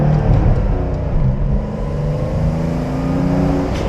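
A Porsche 911 992 4S with a twin-turbocharged flat-six and seven-speed manual revs and pulls hard from inside the car, a loud continuous engine drone with rising turbo whir.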